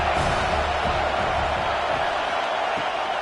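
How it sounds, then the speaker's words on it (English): Stadium crowd roaring in the College Football 26 video game, a dense, loud, continuous wall of cheering and noise with no breaks. "This crowd bringing the energy and noise early."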